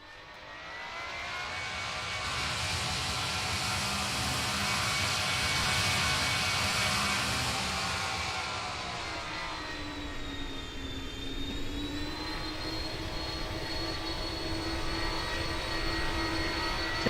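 A Roblox PTFS airliner taxis along a runway during an airbase airshow, its jet engines producing a steady loud roar that swells and then settles into a whining hum with a rising tone, continuous and alone.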